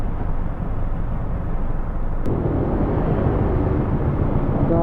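Motorcycles pass along a road, a steady broadband engine roar filling the whole span with a brief sharp click midway and a slightly heavier rumble afterward.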